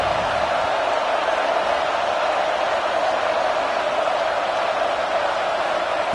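A stadium crowd in a college football video game roars on third down, a dense, steady wash of noise at constant loudness that fills the whole stretch without breaks.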